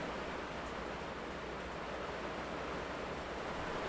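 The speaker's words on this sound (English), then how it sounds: "we are getting tons of rain. Tons of rain." Steady, dense hiss of heavy rain pouring down, constant and unbroken for the whole stretch with no voices.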